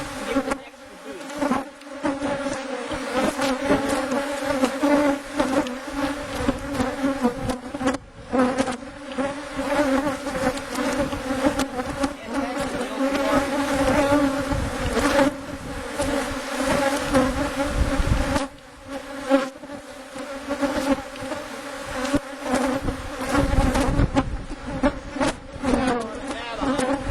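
Honey bees buzz steadily and densely throughout a hive inspection, a close, continuous drone that wavers in pitch and loudness with brief dips.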